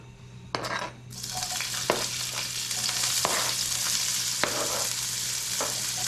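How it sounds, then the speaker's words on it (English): Onions and green herbs sauté in oil with a continuous sizzle, punctuated by several scattered spoon scrapes and taps on the pan, close and fairly loud, with no talking. "So we're gonna saute our green herbs, such as onion,"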